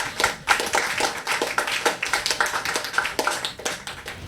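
A live event audience at a speedrunning marathon bursts into steady clapping, many hands overlapping in a dense, continuous patter that holds evenly for several seconds with no talk.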